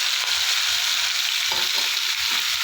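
Okra dropped into hot oil sizzles with a steady, bright frying hiss, broken by soft low stirring bumps, close and continuous with no voices.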